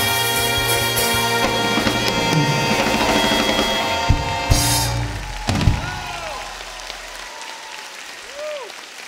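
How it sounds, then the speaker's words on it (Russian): An audience at a chanson concert applauds the orchestra, with loud, dense clapping rising as the music ends, then thinning out. "Ваши аплодисменты нашему оркестру."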